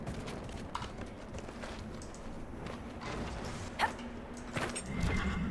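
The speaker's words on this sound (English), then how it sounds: "I imagine it'll be faster if we rode our horse." Horse hooves clop steadily as a rider travels through Dragon Age: Inquisition, a quiet, even rhythm of footfalls with a few sharper knocks near the end and no talk over it.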